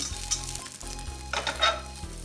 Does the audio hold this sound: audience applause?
no